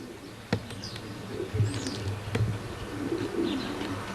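Racing pigeons coo softly in a loft, with a few low burbling coos and faint chirps over steady background hum, fairly close and without talk.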